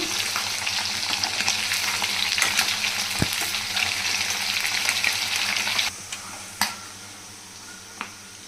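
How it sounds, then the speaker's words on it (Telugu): Prawns fry in oil with masala and ginger garlic paste for a Telugu prawn pickle, a dense bubbling sizzle with stirring scrapes that drops quieter after about six seconds, then a few spoon clinks. "మనం ఇట్లా ఫ్రై చేసుకోవాలి రొయ్యల్ని మంచిగా."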